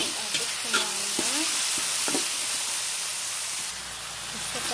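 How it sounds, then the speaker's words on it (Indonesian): Chili-coated eggplant being stirred in a sizzling pan, with a steady frying hiss and a few brief scraping clatters of the spatula, the sizzle softening toward the end. "Setelah itu kita aduk-aduk semuanya."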